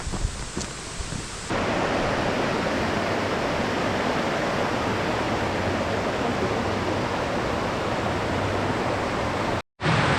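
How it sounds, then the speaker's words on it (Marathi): A large, fast-flowing stream in a monsoon jungle gives a loud, steady roar of rushing water that fills the whole soundscape, continuous and close with no voices. "पुन्हा समोर आलेला एक मोठा नाला. मस्त खूप प्रेशर आहे, पण जास्त पाणी त्याला. आवाज पास किती लांबपर्यंत येतो."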